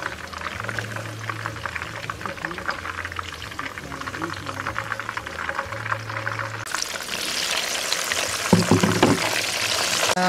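Broth poured over duck with rice vermicelli, a steady liquid splashing and trickling near the microphone, rising into a louder, brighter pour toward the end with faint kitchen background.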